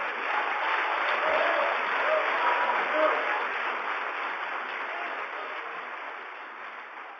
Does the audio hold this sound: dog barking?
no